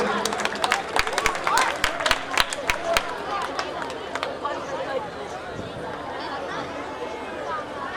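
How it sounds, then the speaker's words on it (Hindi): Audience clapping to welcome an honoured guest at a Hindu devotional jagran night, sharp claps thick over the first few seconds then thinning into crowd chatter and hubbub. "एक बार तालियों से स्वागत करिएगा सभी"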